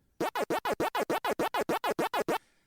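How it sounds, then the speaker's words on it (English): A finger scratches inside an ear: a rapid series of about twelve even, rhythmic scratchy rasps, close and muffled, followed by a faint hiss as they stop. "if you take your finger and you scratch the inside of your ear"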